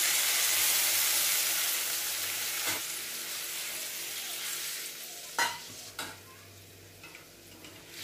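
Water mixed with ground spice paste is poured onto potatoes frying in oil, and it gives off a loud, hissing sizzle. The sizzle slowly settles while a utensil clicks and taps against the pan a few times.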